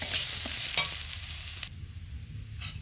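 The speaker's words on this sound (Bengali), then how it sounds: "একটু নেড়ে নেব ঘিরে। দেখুন ভালোভাবে একটু ভেজে নিতে হবে।" Badshabhog rice stirred and fried in ghee in a pan, with a steady soft sizzle and a few light scraping strokes. The sizzling quiets partway through, and there is no talk.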